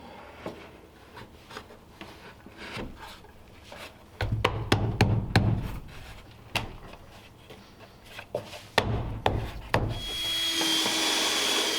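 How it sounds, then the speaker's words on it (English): Wood being worked with a pocket hole jig: a series of sharp knocks and clatters, then a busier burst of loud, rough bangs and scraping, ending in a brief hissy whir, all close up with no talking. "I've been using a pocket hole jig a ton on this project."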